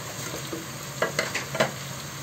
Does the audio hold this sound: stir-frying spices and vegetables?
yes